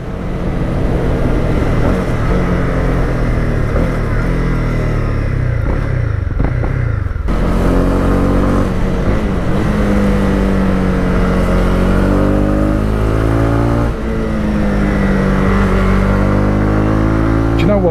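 Honda CB300R motorcycle accelerating on a 60 mph road, with the engine note climbing repeatedly through the gears and loud wind rush, close and continuous, with brief shifts between rising runs.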